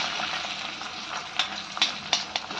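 Barnyard millet rice being roasted in ghee, a steady soft sizzle with a few light stirring scrapes and clicks, close and continuous, no talking.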